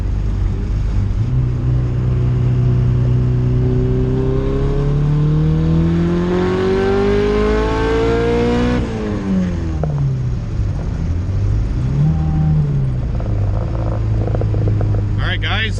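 A turbocharged B20V-engined car pulls hard in third gear, its engine note climbing steadily under load before a shift-like drop and further revving, loud and close throughout, with talking over it.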